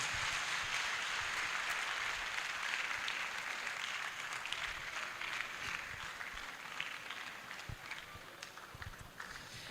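An audience at a World NTDs Day event applauds, a broad wash of clapping that carries on for several seconds and slowly thins, with some voices mixed in.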